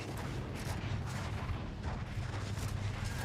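Silenced gun fire in the video game The Outer Worlds 2, a run of muffled, thumping shots with rumbling low end repeating across a few seconds and no speech over them.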